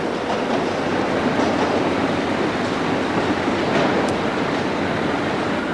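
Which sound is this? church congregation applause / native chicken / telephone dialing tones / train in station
train in station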